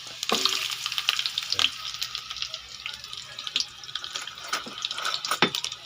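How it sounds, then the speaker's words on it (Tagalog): Fish head soup with lemongrass and onion stirred in a pot: a steady bubbling, sizzling bed with scattered scraping and clinking strokes of a ladle, close and moderately loud. "Haluin na po natin mga idol."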